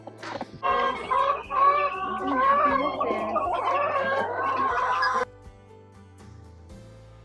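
Several chickens cluck and squawk together in a busy, overlapping chorus for about five seconds, then it drops to a faint murmur.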